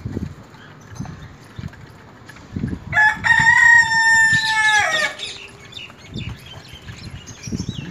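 A desi golden Misri rooster crows loudly and close among hens that keep clucking softly in short, scattered calls before and after the crow.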